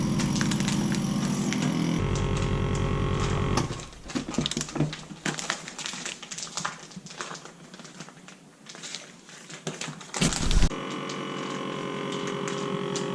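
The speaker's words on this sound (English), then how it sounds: "Each time you close the lid, the machine starts and processes a bag." A SICO S-250 vacuum packing machine runs a cycle on a bag: a steady electric hum gives way to pump and mechanical clatter with irregular knocks and crinkling, then a loud clunk and renewed steady hum near the end.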